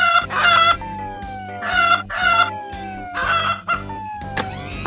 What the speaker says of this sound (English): You've started clucking like a hen.